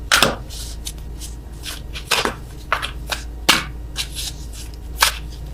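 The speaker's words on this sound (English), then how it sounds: "I am awful at attempting to shuffle these." A tarot card deck is shuffled clumsily by hand, giving sparse, uneven riffles and sharp card slaps at irregular intervals, close and fairly quiet, with no speech over them.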